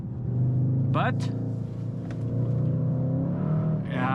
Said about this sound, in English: The engine noise is coming out of the boxes.